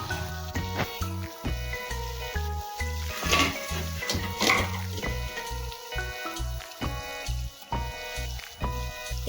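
Onions, green chili and cumin frying in oil on low heat in a home kitchen, a steady close sizzle with repeated stirring and scraping clinks of a spoon against the pan, no talking.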